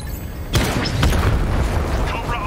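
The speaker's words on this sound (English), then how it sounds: "I need to destroy the Cobra tanks and then take out the missile launcher." In Batman: Arkham Knight, a Cobra tank is blown apart with a sudden heavy boom, followed by a rumbling, crackling aftermath and voices talking over the blast.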